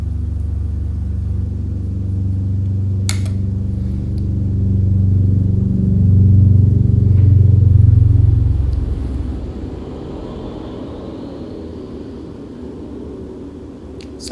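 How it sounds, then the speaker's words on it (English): A helicopter passes overhead, a low rotor rumble that grows louder over several seconds and then fades as it moves away. A brief clatter stands out early on. "Sorry about the annoying helicopter that just needed to fly over me right now."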